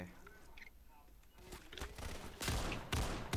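Gunshots in a first-person shooter video game, quiet at first then louder sharp bursts of shots toward the end, with players talking over the action.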